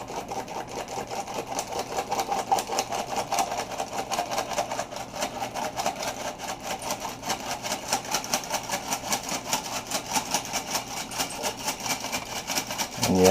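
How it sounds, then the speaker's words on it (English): An old, noisy hand-cranked flour sifter working flour in a small kitchen gives a steady, close, rapid mechanical rattle and whir that runs continuously throughout. "I've got one of those old noisy sifters"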